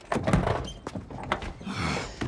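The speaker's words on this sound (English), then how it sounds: "Open the door." A car door is opened with a solid thunk and latch clunks, close and fairly loud, followed by a brief rustling shuffle.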